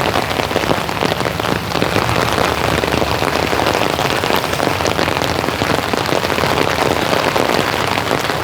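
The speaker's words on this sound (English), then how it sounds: "You gotta love an evening rain." Evening summer rain falls steadily and heavily, a dense, even patter on surfaces that stays loud and unbroken throughout.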